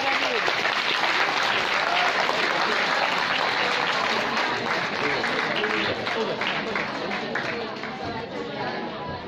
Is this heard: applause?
yes